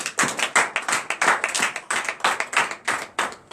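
A church congregation claps in praise during morning prayer in Benin, with quick, steady, rhythmic handclaps of about four a second that sound close and loud, with no voices.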